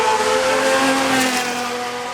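Jaguar XJR-12 race car at the Goodwood Festival of Speed, a loud sustained engine howl holding a high pitch as it drives nearby, then easing slightly, with no voices.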